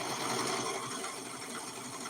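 A sewing machine runs steadily, stitching thin stretchy durag fabric with a fast, continuous mechanical whir close up, even and unbroken throughout.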